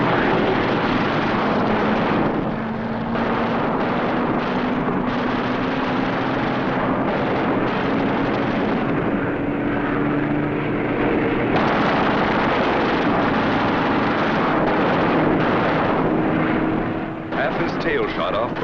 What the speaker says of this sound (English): B-17 catches fire and goes down in flames.